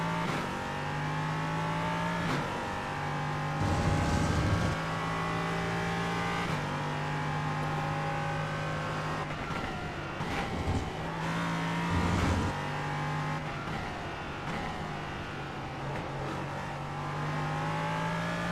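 An LMP3 race car engine in a sim racing game drones continuously, its pitch climbing through the revs and dropping at each gear change, with repeated shifts throughout.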